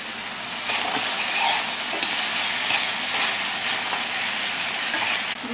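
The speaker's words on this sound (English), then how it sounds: "Onions cooking down nicely." Vidalia onions cooking down in a pan, a loud, dense, continuous sizzle close up with faint stirring scrapes and no talking.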